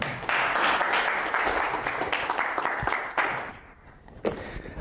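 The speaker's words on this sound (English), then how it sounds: "Give everybody a round of applause." Audience applause at a live hypnosis demonstration, a dense wash of clapping from a room full of people that holds steady for several seconds and then thins out toward the end.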